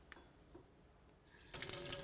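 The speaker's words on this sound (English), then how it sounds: "Just getting some water, guys." Tap water running into a glass in a home kitchen, quiet drips and small clinks at first, then a louder steady stream splashing for the last half second, with no talk.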